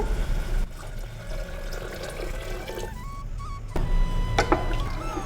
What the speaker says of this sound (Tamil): அதுக்கு இப்போ நான் ரெண்டே கால் கப்பு தண்ணி சேர்க்குறேன்